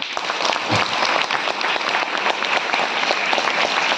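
An audience at a Hindi church sermon bursts into applause, a steady, fairly loud patter of many hands clapping without pause, with no speech over it.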